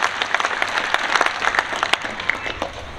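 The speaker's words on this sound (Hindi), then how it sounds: "मैं चाहता हूं कि तालियों का एक जय अभिनंदन करें उनका" An audience at a Bajrang Dal gathering claps steadily, dense sharp handclaps forming continuous close applause with a few louder individual claps standing out.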